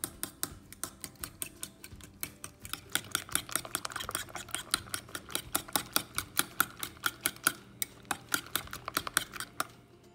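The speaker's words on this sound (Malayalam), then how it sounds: "ഒരല്പം മല്ലിയില അരിഞ്ഞതും കൂടെ ചേർത്ത് കൊടുത്തിട്ട് ഈ മുട്ട നന്നായിട്ടൊന്ന് ബീറ്റ് ചെയ്തെടുക്കാം" Eggs mixed with chopped onion, tomato and coriander are beaten briskly in a bowl, producing quick, rhythmic clicking taps that repeat steadily and fairly faintly without pause.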